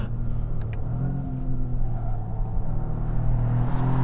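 A 2025 Toyota GR Corolla, turbocharged and all-wheel drive, cornering hard on a track: a steady droning engine rumble fills the cabin, with a brief faint tire squeal near the end.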